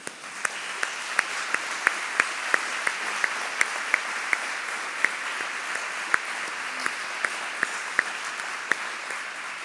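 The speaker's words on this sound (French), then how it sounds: "Alors nous pouvons vous applaudir" A room of people at a Radio Maria anniversary celebration gives steady, sustained applause, a dense wash of clapping with crisp individual claps standing out, continuous for several seconds without talk.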